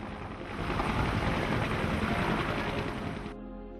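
Army aviation helicopter rotor and engine roar, a steady loud broadband thrum held for about three seconds, then cutting away abruptly near the end.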